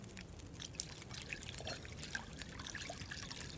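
Water trickles and pours steadily while tea is prepared in a survival video game, a soft continuous liquid stream with faint drips throughout, no voices.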